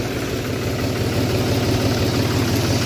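A tractor engine idles close by on a farm, a low, steady, continuous rumbling drone with no break or change in pace.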